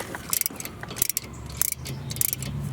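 A wrench clicks in quick, uneven ratcheting bursts while tightening a brake caliper bolt on a 2011–2016 Scion tC during front brake work, with short metallic ticks and pauses close by.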